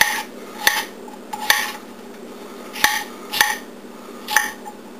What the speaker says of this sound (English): I'm going to take this half of onion, and I'm just going to cut it up